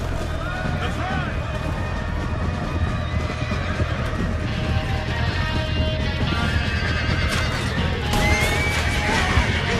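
Horses whinny and neigh amid steady hooves clip-clopping during a chaotic mounted scene in the video game Red Dead Redemption 2, with shouting voices and crashes mixed into a dense, continuous din.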